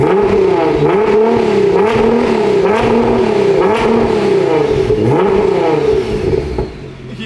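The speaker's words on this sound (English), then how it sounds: "But I wanted to hear the new exhaust now." A Nissan GT-R engine revs repeatedly through a loud, throaty new exhaust, rising and falling in rhythmic pulls before dropping off at the end.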